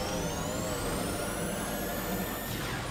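Security drones in Metroid Prime hum as a steady, dense drone with whining high tones that rise slowly and constant low rumble, loud and continuous with no break.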